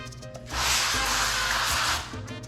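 A steady spray hiss lasting about a second and a half, close by, from a pump spray bottle misting avocado oil.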